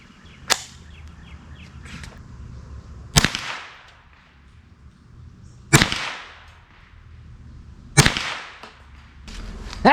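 Four sharp, loud rifle shots with CCI Tactical Target 40 grain ammunition crack at uneven intervals of two to three seconds, each trailing off into a short ringing echo over a quiet outdoor range.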